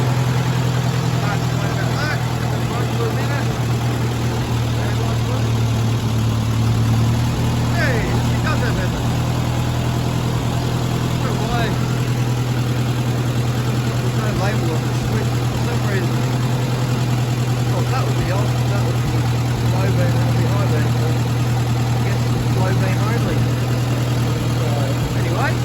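A vintage pull-start stationary engine at a machinery rally idles steadily with a loud, low, even thrum, while a voice speaks intermittently over it.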